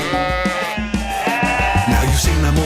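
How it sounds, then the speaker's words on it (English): Cartoon sheep from a children's farm animal show bleat in a loud, close chorus over a bouncy musical backing, several overlapping calls repeating throughout. "The sheep."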